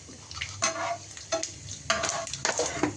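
Mustard seeds and cumin frying in a pan of oil for homemade mango rice, crackling and popping in a few close bursts of sizzle with scraping strokes between.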